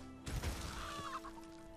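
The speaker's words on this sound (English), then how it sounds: "Chicken!" A chicken in the Elder Scrolls Online video game gives a short burst of clucks, close and clear over a quiet, steady game background.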